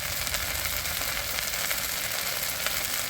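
Ginger and cumin paste frying in oil with snakehead fish, a dense, even, crackling sizzle that stays loud and steady throughout.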